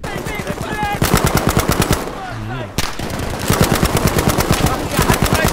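Rapid automatic gunfire from Battlefield V bursts loudly in fast rhythmic volleys, breaking briefly for a short pause with a faint whistle-like tone, then resuming in sustained bursts.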